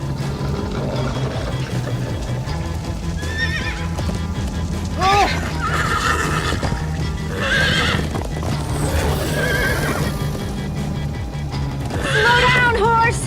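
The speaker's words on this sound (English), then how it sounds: "Slow down, horse!" Horses from the Minecraft Story Mode game whinny several times and clip-clop at a gallop, with loud neighs recurring over steady hoofbeats, background music and action noise.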